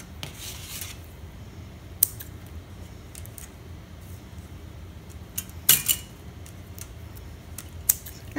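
Scissors snip off excess twine on a Dollar Tree clothespin wreath, a few sharp isolated clicks and snips spread across a quiet stretch, with faint rustling handling sounds between them.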